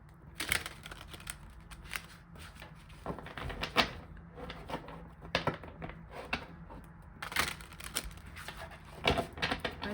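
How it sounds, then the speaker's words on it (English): Tarot and oracle cards are shuffled by hand up close, giving quiet, irregular bursts of papery riffling and snapping with short pauses between them. "let's just give this a good shuffle."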